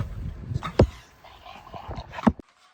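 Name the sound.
dog whimpering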